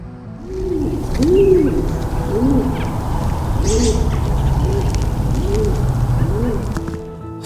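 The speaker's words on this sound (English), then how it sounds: "I've heard several birds on this hike that I'm doing" Birds call outdoors on a nature hike, giving a series of soft, low, hooting coos repeated at a steady pace, moderately near, over a faint wash of background ambience.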